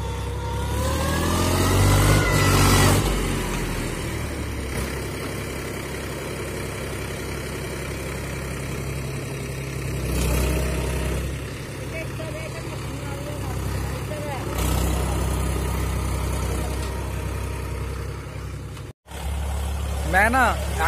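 A farm tractor's engine runs steadily throughout while ploughing a field, a low continuous drone that swells at times as it works, with people talking over it.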